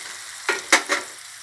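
Garlic, lemongrass, shallots and chilies stir-fried over high heat, three short sizzling scrapes of a spatula in a pan against a low hiss.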